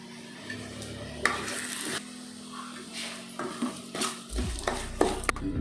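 Gooseberry rice mixture with salt and curry leaves frying in a pan, a soft continuous sizzle broken by scraping stirs and metal spoon clinks against the pan, close and steady with no voices.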